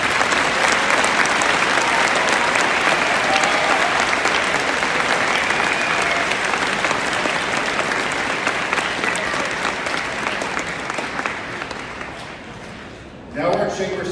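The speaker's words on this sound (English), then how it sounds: "let's give all our recipients one more round of applause." A school Veterans Day assembly audience applauds, giving award recipients sustained, full-room clapping that stays steady and dense before tapering off near the end.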